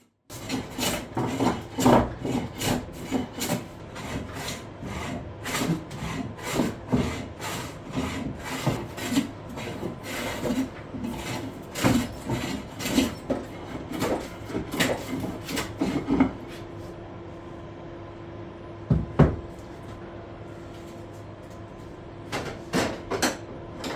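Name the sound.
hand plane shaving wood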